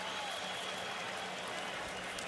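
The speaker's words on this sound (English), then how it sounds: "Crowd here appreciates his effort." A stadium crowd at a 2020 Florida State vs. Miami college football game gives a steady, broad roar of cheering and applause, continuous and fairly far off, with no clear breaks.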